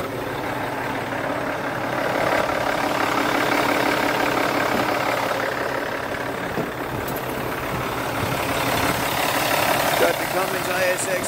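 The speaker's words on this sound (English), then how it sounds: "Got the Cummins ISX 15, 400 horsepower." A 2010 Kenworth T660 truck with a Cummins ISX 15 diesel engine of 400 horsepower and an Eaton Fuller 10-speed transmission idles steadily, a low even rumble that holds throughout the clip with faint outdoor noise around it.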